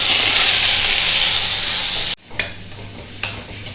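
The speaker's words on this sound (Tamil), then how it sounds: "ஆனியன் பேஸ்ட்டை வந்து கொஞ்சம் நல்லா ஃப்ரை பண்ணிக்கலாம்" Onion paste fries with spices in a pan for paneer butter masala, a steady, fairly loud sizzle that cuts off abruptly, followed by a couple of faint clicks in near silence.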